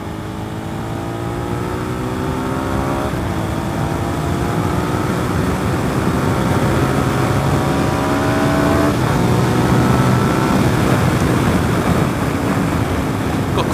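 Suzuki SV650S motorcycle engine on a test ride, loud and steady with a continuous engine drone that rises in pitch under acceleration, wind rush filling the background, no voices.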